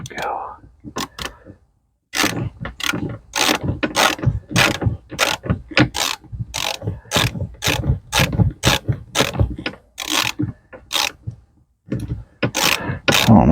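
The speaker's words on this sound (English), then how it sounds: "If I can get this ratchet on there, maybe." Ratchet wrench turning a bolt on a front seat mount in a square-body truck, with loud, close bursts of quick clicking strokes and short pauses between them.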